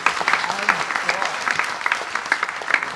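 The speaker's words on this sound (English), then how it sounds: "Give me a round of applause if that's what they should do." An audience gives a round of applause at a Maha Shivratri gathering, steady dense clapping carrying on for the full stretch at moderate loudness, with some voices mixed in.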